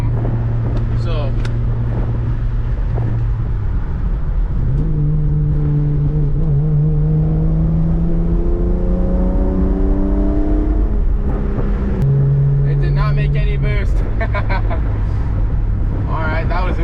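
Turbocharged Toyota 2JZ engine in a Lexus GS300, boost set near 13 pounds, idles steadily, then climbs through a rising rev with a whining sweep before settling back to idle; close and loud, with brief voices near the end.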